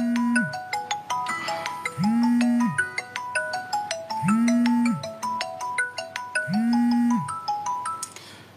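A phone ringtone from an incoming call plays as a repeating melodic tone pattern, four rising-and-falling cycles over steady chiming notes, loud and close with no talk over it.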